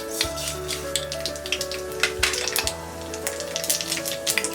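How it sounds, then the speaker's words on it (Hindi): Mustard seeds sizzle and crackle in hot oil in a pan, a steady frying hiss broken by sharp popping ticks, close up, with a faint low hum underneath. "तेल गरम हो गया है। अब हम इसमें डालेंगे ये राई"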